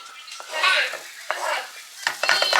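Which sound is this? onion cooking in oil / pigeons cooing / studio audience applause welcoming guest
onion cooking in oil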